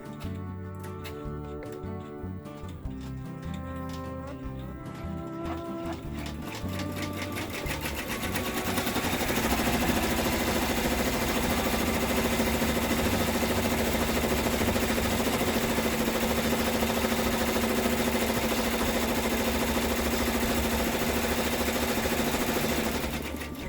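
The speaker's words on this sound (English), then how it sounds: "we're going to stitch the placement stitch" An embroidery machine sewing a placement stitch on an in-the-hoop mask, running at a fast, even mechanical rhythm that grows louder and denser after about eight seconds and holds steady with no talking.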